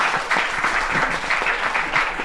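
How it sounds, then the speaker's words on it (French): Steady, dense applause from an audience, continuous clapping throughout at moderate loudness, with no voices rising above it. "Ah, c'est bon, on va applaudir."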